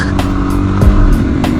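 Suzuki DRZ motorcycle engine revving hard during a wheelie on dirt, a loud, close, continuous engine drone with brief surging pulses.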